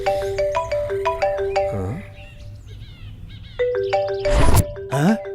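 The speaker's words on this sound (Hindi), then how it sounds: "किसका फोन है?" A phone ringtone in a Hindi-dubbed action film plays a bright chiming melody in repeated bursts, pausing briefly before starting again, with a voice murmuring faintly underneath.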